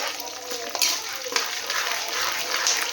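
Garlic sautés in oil in a pan, a loud, close crackling sizzle broken by a few sharp stirring scrapes.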